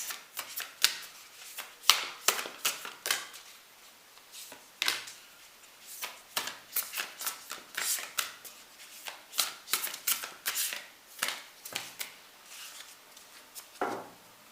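Oracle cards shuffled in a series of quick, crisp riffling bursts with short pauses between, close and fairly quiet, no voices.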